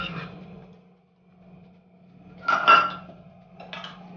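A metal spoon clinks against a heated pan as two spoons of butter go in for paneer butter masala. Three short clinks, one near the start and two louder ones late, sound over a low steady hum with no talk.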